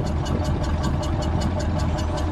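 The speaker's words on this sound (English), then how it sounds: "let's let it idle first. Listen, that sounds like a boat" A 1961 Imperial Custom Southampton's large engine idles nearby with a deep, steady, lumpy rumble and a regular pulsing beat, loud and continuous with no voices.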